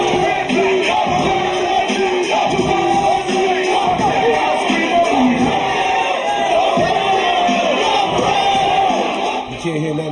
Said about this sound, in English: You can't hear nothing I'm saying because they're chanting over me